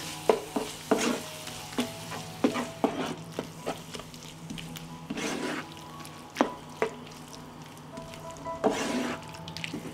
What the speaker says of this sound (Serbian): Promešat ću i propržiti 1 minut.